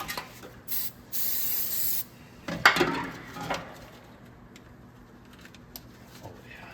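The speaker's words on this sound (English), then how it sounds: "silicone spray for rubber" Two short bursts of silicone spray for rubber hiss close by, followed by some light handling clatter and quiet room noise.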